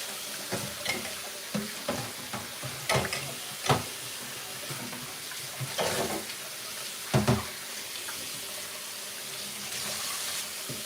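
Egusi soup fries in a pot with a steady sizzle, broken by scrapes and clatters as it is stirred.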